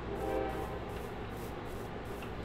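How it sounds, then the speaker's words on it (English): A Minecraft train rolls past with a steady low rumble and a brief horn-like tone near the start, continuous and moderately loud throughout. "And as I say that, a train goes by."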